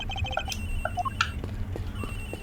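Telephone ringing in the Ace Attorney Investigations video game: a run of quick electronic ring tones and chirps over a steady low hum, close and moderately loud, with no talking.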